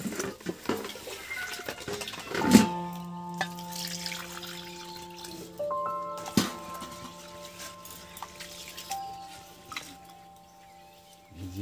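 Water splashes and trickles into a vessel of bashkathi rice to soak it, with gentle pouring and dripping and a few clinks of the container, fairly close and moderately quiet.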